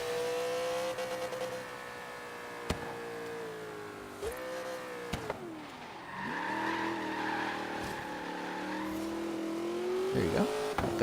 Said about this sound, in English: A pretty good drift.